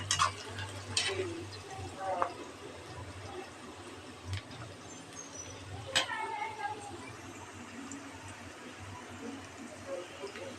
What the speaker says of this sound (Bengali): পেঁয়াজগুলো আমি আস্তে আস্তে করে ভেজে নেব তেল দিয়ে